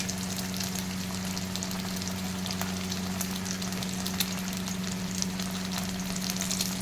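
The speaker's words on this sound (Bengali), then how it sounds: "তিনজন খাবো আমরা, তিনটে ডিম পোচ, তিনজনের তিনটে ডিম পোচ।" Three eggs frying in a pan for egg muri ghonto, a steady loud sizzle and crackle of hot oil with scattered pops, continuous and close with no talking.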